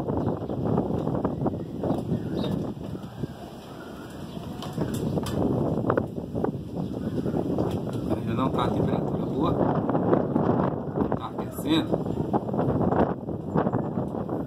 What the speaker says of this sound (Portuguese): E tá ventando bastante aqui, galera. Faz um barulho aí no vídeo.